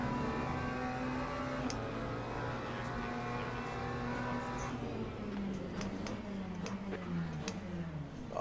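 Porsche race car engine in Le Mans Ultimate, a steady droning whine with shifting pitch as the car runs alongside others on track, without speech.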